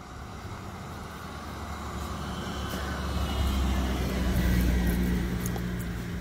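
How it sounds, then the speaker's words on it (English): Car approaching on a road near a forest and beach walk, its rumble growing louder and peaking before easing slightly, heard alone without talk. "There's a car coming"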